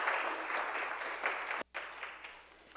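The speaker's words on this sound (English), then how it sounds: "Let's give God a hand clap of praise for him." A congregation claps in praise during a church service, a dense steady wash of many hands that cuts off abruptly for a moment before resuming and tapering, with no voices over it.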